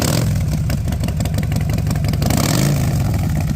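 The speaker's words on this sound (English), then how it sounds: "it's loud as hell. The motorcycle, I mean." Ghost Rider's flaming motorcycle from the video game Marvel Rivals idling loudly, a constant deep rumbling engine throb that stays steady and close throughout.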